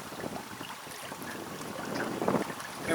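A puff of wind while sailing a small boat, heard as steady buffeting wind noise across the microphone with a soft water wash beneath, swelling slightly toward the end, with no one talking.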